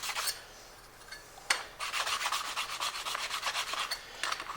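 A blade sharpened on a simple sharpening block, with close, quiet rhythmic rasping strokes repeating steadily after a brief pause, no speech.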